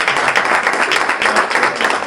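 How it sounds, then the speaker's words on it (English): An audience applauds a studio guest named Kev, a steady wash of dense clapping that stays loud and even throughout with no talk over it. "Give Kev a round of"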